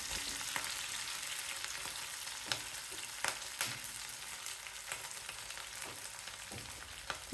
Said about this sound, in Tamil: ரெண்டு 3 நிமிஷம் வதக்கினாலே போதும். வெங்காயம் இந்த அளவுக்கு நல்லா செவந்து வந்துடும்.